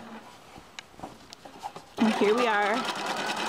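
A sewing machine runs a zigzag stitch down leggings fabric, a close, steady mechanical whir starting halfway through after a voice speaks, with talking continuing over the motor.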